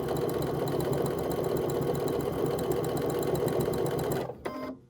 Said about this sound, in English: I'm just going to top stitch